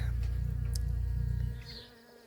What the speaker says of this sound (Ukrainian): скільки бджіл прилетіло сюди поласувати оціми